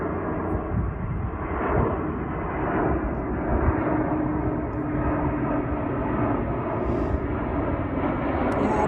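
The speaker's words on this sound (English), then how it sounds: "So look how close these airplanes are." An airplane flying low near the Las Vegas airport produces a steady, loud engine roar that holds for several seconds without fading, with no talking over it.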